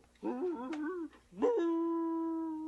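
A puppet dog lets out a short whimpering whine, then a rising howl that holds steady and slowly fades, heard close and alone with no talking.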